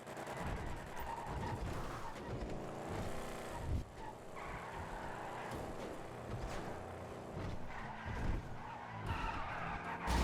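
A car driven hard in Grand Theft Auto V, with constant engine roar and repeated tire skids and squeals over a steady, loud road noise throughout.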